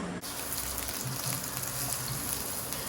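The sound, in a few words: onions sautéing in a pan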